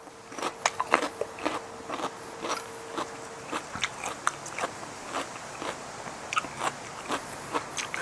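Crisp, close crunching bites and chewing of a salmon seaweed salad, irregular crackly crunches repeating over several seconds with no talking.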